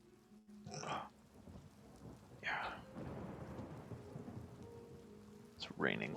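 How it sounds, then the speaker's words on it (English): Steady rainfall in the game Oblivion Remastered hisses continuously, broken by a few louder thunder-like bursts near the start, in the middle and at the end. "It's raining."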